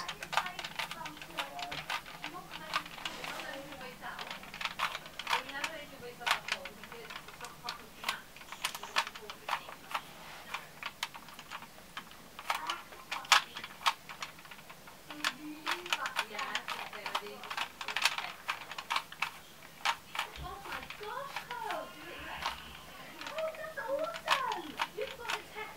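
Rubik's cube being mixed up and solved by hand, a steady stream of quick plastic clicks and twists close up, with someone talking now and then over the turning.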